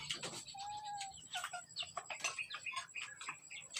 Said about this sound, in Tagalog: Kamuga lang manok.